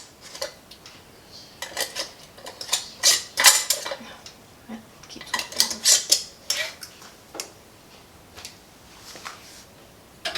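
Metal canning rings are screwed fingertip tight onto lidded pint jars of sloppy joe sauce. Close, irregular metallic scrapes, clinks and gritty twisting clicks come in clusters, with pauses between.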